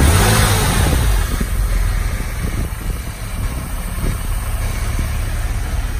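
A Porsche engine revs as heard from outside, a loud, continuous roar that swells and eases with rising and falling revs, close by and dominating throughout.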